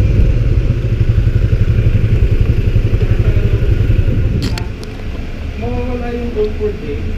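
An old Yamaha MX 125 motorcycle engine idles with a steady, loud, rapid putter, then drops to a softer running note while faint voices and a few clicks come in.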